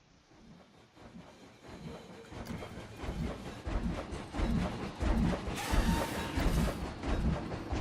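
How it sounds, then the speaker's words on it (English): A train passes by in a Wild West building video game, a steady rumbling, hissing rush that grows louder over several seconds as it draws near. "The train's just come along."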